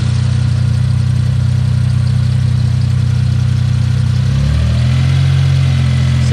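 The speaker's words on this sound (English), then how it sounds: "So let's see if as we rev it, if it lines itself up." A Suzuki Cappuccino engine idles steadily and loud, close up, then its pitch climbs as it revs near the end.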